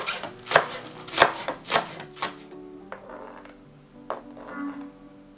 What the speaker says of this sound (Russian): Зеленую часть зеленого лука нарезаем мелко